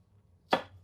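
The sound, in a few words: chopping red chilli with a big knife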